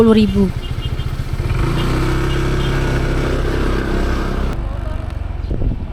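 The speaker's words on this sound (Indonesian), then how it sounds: "motor kami diarahkan ke area parkir yang sudah tertata rapi" A motorcycle engine rumbling at low speed while riding into a parking area at Sibea-Bea on Samosir Island, Lake Toba, steady and close, with voices talking over it.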